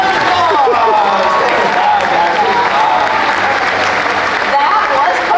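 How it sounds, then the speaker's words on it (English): Audience applause and cheering fill a studio special effects show at Universal Studios Hollywood, a dense, steady roar of clapping from a large crowd that lasts throughout with no pauses. "Give her a applause!"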